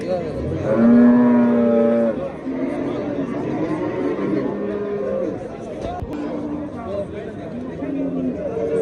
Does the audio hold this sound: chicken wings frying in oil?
no